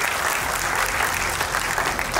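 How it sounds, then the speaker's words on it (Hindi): An audience at a school achievers award ceremony claps loudly and continuously, a dense, even roar of many hands close by with no break and no speech over it. "प्लीज़ इनके लिए जोरदार तालियां हो जाएं"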